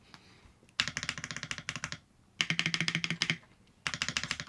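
Bursts of rapid keystrokes on a custom mechanical keyboard, three quick clattering runs of clicky taps separated by short quiet pauses, close and crisp, with no talking.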